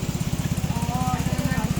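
A motorcycle engine idles close by with a steady, rapid putter of even pulses, loud and low-pitched throughout.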